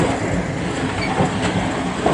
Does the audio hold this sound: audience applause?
no